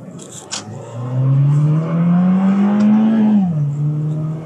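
Mazda Miata race car engine blipping and revving through a downshift, a strong rising and falling drone heard up close and loud with no talk over it.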